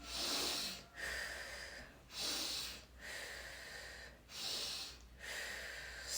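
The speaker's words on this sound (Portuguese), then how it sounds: "sempre puxando pelo nariz e soltando pela boca" Quick rhythmic breaths drawn in through the nose and pushed out through the mouth, as practised for labour, roughly one cycle per second, close and fairly loud with a hissy, airy quality and no talking.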